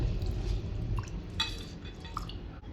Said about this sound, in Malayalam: ഇനി ഇത് നമുക്ക് ഒരു രണ്ട് മൂന്ന് വെള്ളത്തിൽ ഒന്ന് കഴുകിയിട്ടൊന്ന് വേവിച്ചെടുക്കേണ്ടതുണ്ട്